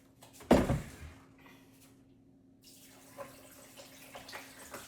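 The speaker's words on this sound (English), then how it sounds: "now I'm gonna add some water." After a sharp knock, water is poured into a protein shake mix. It comes as a faint, steady splashing hiss that carries on through the second half of the clip.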